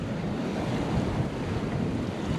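Steady wind roars across the microphone with wave wash on board a sailboat crossing the Gulf of Lion, a continuous dense rush with no pauses and no talking.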